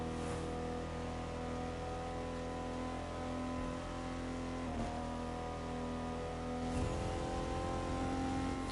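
A Koenigsegg hypercar in The Crew 2 racing game drones with a loud, sustained engine tone that climbs steadily in pitch, with brief gear-shift dips, alone and close.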